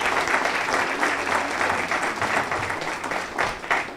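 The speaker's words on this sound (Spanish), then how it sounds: "le brindamos un fuerte aplauso a nuestro ponente del día de hoy" A university lecture audience in Tlaxcala applauds their guest speaker, a dense sustained roar of many hands clapping at even loudness throughout, filling the hall.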